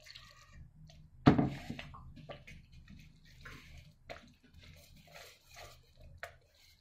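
Water pours into besan (gram flour) dosa batter with a sudden close splash, followed by softer wet stirring and squishing sounds at a quiet level.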